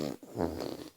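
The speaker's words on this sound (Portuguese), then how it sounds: "Meu peidão." A loud, close fart lasts about a second, starting with a short sputter and then stretching into a buzzy, rumbling blast before trailing off.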